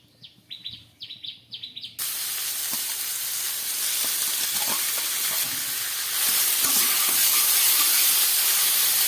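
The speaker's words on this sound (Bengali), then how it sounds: "গ্যাসের মধ্যে একটা কড়া বসিয়ে দিয়েছি এবার আমি এর মধ্যে দিয়ে দিচ্ছি পরিমাণ মতো তেল" Oil heats in a kadai on a gas stove. Faint birdsong is heard briefly, then a sudden loud hiss and sizzle starts and holds steady, swelling slightly toward the end.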